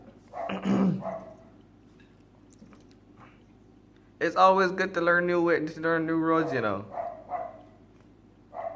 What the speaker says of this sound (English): Yeah, dog.